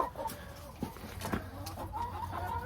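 Backyard hens clucking softly at close range, with scattered short clucks and low murmurs forming an irregular rhythm, and no talking.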